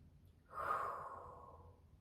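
A single slow, deep breath during a yoga session, drawn in and let out softly from close by, swelling after half a second and fading gradually over the next second and a half.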